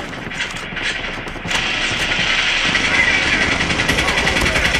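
Rapid gunfire in Call of Duty Mobile rattles in dense bursts over an engine-like drone, growing louder partway through, while someone talks over it.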